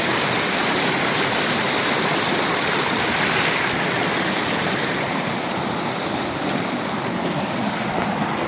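Waterfall on the Belogorka River in spring in Kyrgyzstan, a loud, continuous broadband roar of rushing, crashing water, steady and close with no breaks.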